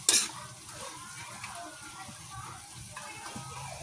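String beans are stirred through pork and chicken in a hot pan, a steady sizzle with soft scraping strokes, fairly quiet and close, with a sharp clatter at the start and a voice speaking over it.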